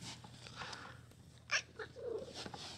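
A farm cat gives a faint, brief vocal cry, a short meow-like call rising over quiet room noise, then soft rustling.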